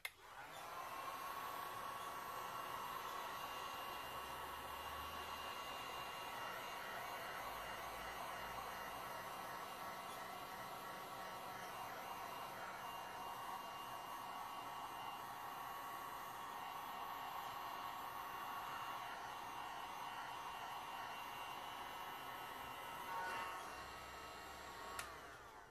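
A heat gun blows steadily over fresh resin art mixed with blue pigment, a continuous whirring hiss of fan and airflow that holds even for the whole stretch with no talking.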